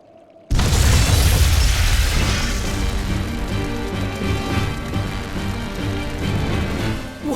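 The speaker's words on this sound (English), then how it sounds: "Tools of flamestone, sulfur, and oil. Those will explode." In the Tales of Berseria video game, stores of flamestone, sulfur and oil blow up with a sudden loud boom that becomes a long, rumbling roar of debris and crackling, slowly easing off.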